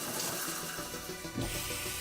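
Steady stream of water running from an automatic sensor faucet at a sink while dishes are washed, a continuous close hiss with slight shifts in flow, no talking.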